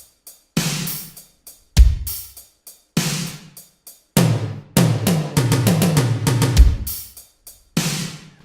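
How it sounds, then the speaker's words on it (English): A drum pattern programmed on Native Instruments Maschine for a dark synth track, with punchy kicks, snares and hi-hats in a steady groove, then a run of toms near the end marking a transition, played alone and loud. "let's put toms at the end to signal a transition to another pattern."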